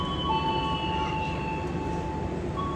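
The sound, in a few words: Sri Tanjung passenger train departing Kertosono station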